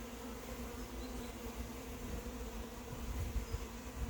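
Honeybee swarms left behind by a beekeeper buzz steadily and closely, a dense continuous drone of many wings with no talking.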